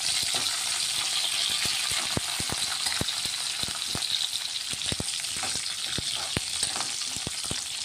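Chopped green chillies fry in a pan, giving a constant bright sizzle crossed by frequent sharp clicks and scrapes of stirring, loud and close, with no voices.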